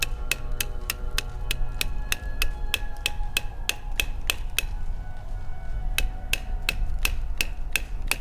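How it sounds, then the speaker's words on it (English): A red dot sight is struck repeatedly against a tree trunk, producing a steady series of sharp, loud knocks at a fairly even pace with wind rumbling underneath throughout. "This is where we take the red dot and use it like a hammer against a tree."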